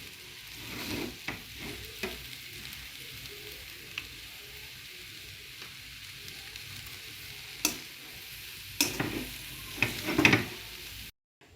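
Sri Lankan kottu fries on a pan as chicken curry is added, a quiet steady sizzle punctuated by sharp metallic scrapes and clanks of stirring, growing busier toward the end.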